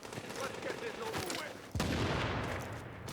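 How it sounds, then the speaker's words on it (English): A rapid volley of gunshots aimed at an enemy in a shooter game, crackling bursts over busy game noise, with a heavier blast near the middle. "I'm just gonna get some shots on the guy."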